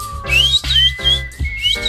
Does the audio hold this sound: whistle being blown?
yes